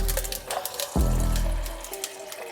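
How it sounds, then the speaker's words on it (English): Water pours into a protein shaker cup already holding ice, with a brief clatter followed by a steady filling rush that gradually fades, close and alone without talk. "Then we're gonna get some water."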